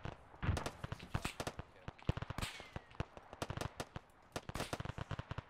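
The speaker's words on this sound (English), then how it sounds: "Shots coming in east." Gunfire in the military shooter Arma 3, a dense run of sharp cracks and short automatic bursts at varying distances, rapid and irregular throughout with no voices.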